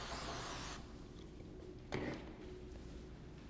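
Hairspray hisses onto hair in a steady broad spray during bridal bun styling, followed by a short sharp burst, close by and fairly quiet.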